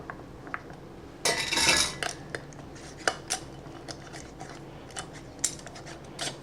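Metal lid and band being finger-tightened onto a glass canning jar, a short burst of gritty scraping followed by scattered light metallic clinks and taps nearby.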